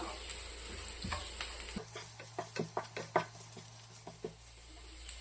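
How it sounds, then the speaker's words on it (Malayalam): A spoon stirs chilli, coriander and red chilli powder masala in a hot pan for Kerala-style prawn roast, sizzling steadily under a run of rhythmic knocks and scrapes against the pan. "ഇനി നമ്മൾക്കൊന്ന് നല്ലപോലെ ഇളക്കി കൊടുക്കാം"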